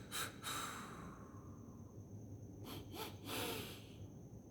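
Timed breathing exercise with slow inhalations and exhalations, a few soft close breaths spaced apart against a quiet background.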